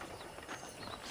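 Horse hooves clip-clop in the Red Dead Redemption video game, a quick run of soft muffled steps under a noisy game soundtrack for about a second.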